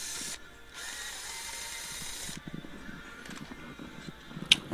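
Screwdriver work on the single screw of a pool light's clamp assembly, with a faint ratchet-like clicking and scraping at close range over a steady background hiss, ending in a sharper metallic tick.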